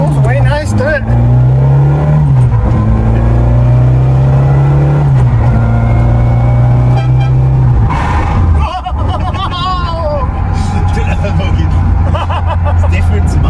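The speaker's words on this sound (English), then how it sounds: "it pulls away nice, doesn't it?" A Citroën AX GT rally car pulls away loudly with a steady engine drone that climbs through the gears, heard from close up, while people talk over it.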